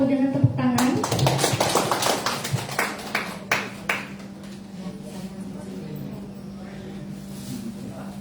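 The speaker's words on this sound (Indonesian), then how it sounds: "Boleh mari kita sambut dengan tepuk tangan." A church congregation claps in a short, scattered burst of individual hand claps that thins out after a few seconds, followed by quiet room tone with a low steady hum and faint voices.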